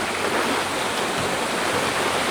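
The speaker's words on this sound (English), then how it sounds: "Yeah, we reached the waterfall." A waterfall on a hiking trail in Vietnam roars steadily as a dense, unbroken wash of falling water, close and loud, with no voices over it.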